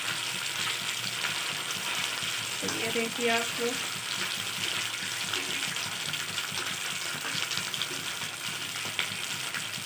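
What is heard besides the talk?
malai chaap frying and sizzling in hot oil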